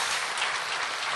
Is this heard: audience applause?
yes